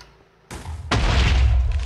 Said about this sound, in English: Here we TNT bombing.